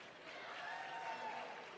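A sold-out crowd at an Ignite live stage show applauds in a steady, even wash of clapping that sounds fairly faint and distant, with no voices standing out.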